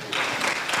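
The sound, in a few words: audience clapping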